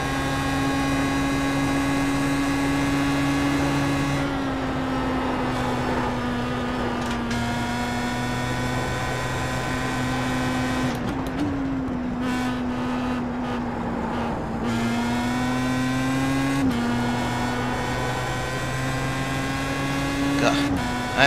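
Droning whine of a Pro Mazda race car engine in iRacing at Barber Motorsports Park, pitch rising and dipping with gear changes and corners, steady and close throughout with brief lifts, while a voice talks over it.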